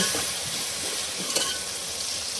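Washed goat head meat dropping into a hot pan with cooked tomatoes and onions over a wood fire, giving a loud, continuous sizzle and hiss with faint stirring scrapes.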